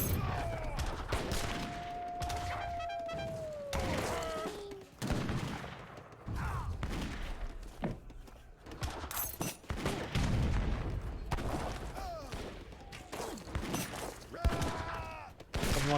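Cannon volleys pound musketeers in a battle in the strategy game Age of Empires 3, with repeated booms and crackling gunfire stacked densely under steady game noise.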